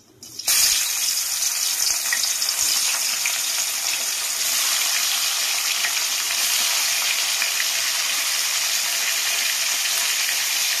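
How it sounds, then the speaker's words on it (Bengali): Spice-coated katla fish pieces crackle and sizzle loudly in hot oil in a kadai, a sudden burst that settles into a dense, continuous hiss close by with no talking. "আমি এবার আস্তে আস্তে মাছগুলো ছেড়ে দেব।"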